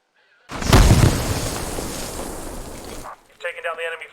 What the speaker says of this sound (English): It's got a 30-second fuse on it, so after 30 seconds it will detonate.